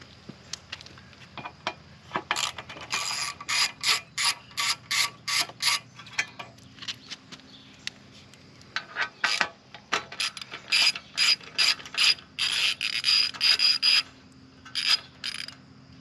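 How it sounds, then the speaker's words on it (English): A ratchet with a 3/16 hex bit backs out the exhaust heat shield bolts on a 2024 Kawasaki ZX6R 636, producing close, rapid bursts of clicking strokes that repeat steadily with short pauses between runs. "I'm going to go ahead and take this heat shield off. This heat shield is a 3/16 hex, and you got 1 and 2 bolts."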